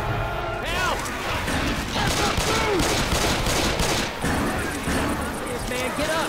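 Heavy video game gunfire rattles nonstop in dense automatic bursts, loud and close, with voices shouting over the shooting.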